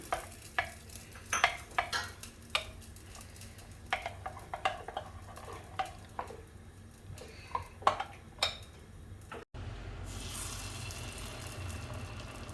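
Fried mustard seeds and curry leaves are stirred into leftover dosa batter, with sharp intermittent clinks and scrapes of a spoon against the vessel over soft sizzling, then a steadier frying hiss at the end.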